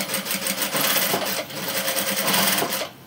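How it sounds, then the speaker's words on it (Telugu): A sewing machine stitches a seam on a long frock, a close, loud, rapid rhythmic chatter running continuously for about three seconds. "ఇప్పుడు పైన ఇక్కడ పైన ఒక కుట్టు వేసుకుందాం"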